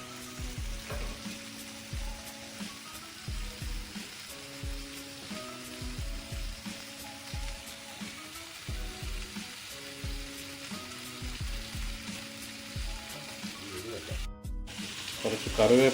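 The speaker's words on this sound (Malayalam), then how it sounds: "എന്നാലും നമുക്കിതൊന്ന് ഫ്രൈ ചെയ്തെടുക്കാം." Mussels fry in a hot pan with a constant soft crackling sizzle and some stirring scrapes throughout, fairly quiet, with no talking, ending in a short clatter.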